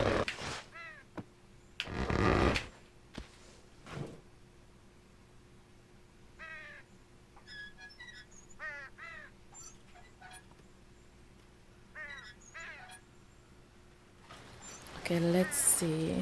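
A bird cawing in the video game Unravel: several bursts of harsh, repeated caws, some in quick runs, heard amid game sounds and a few louder thumps.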